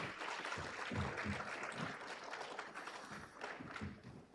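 Audience at a regional economic forum in eastern Indonesia applauds a speaker, a steady wash of many hands clapping fairly close, continuous and even throughout, with no talk over it.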